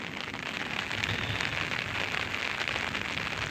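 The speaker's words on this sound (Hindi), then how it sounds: "बारिश लगी हुई है" Dense, even rain patters steadily on surfaces outdoors near a garden of plants, a close, continuous hiss of fine drops with no break.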